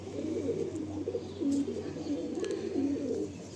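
Female Madrasi pigeon gives soft, repeated low coos close by, a rolling murmur over a faint steady background hum, with no voices.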